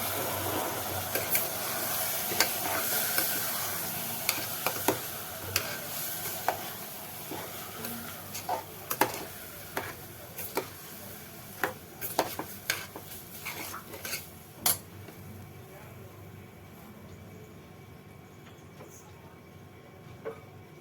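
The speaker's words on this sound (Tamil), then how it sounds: "நல்லா வதக்கிக்கோங்க" Ingredients are sautéed in a pan for ven pongal, with a metal spoon scraping and clinking against the pan in irregular, sharp knocks over a soft background sizzle. The knocks stop near the end, leaving quieter hiss.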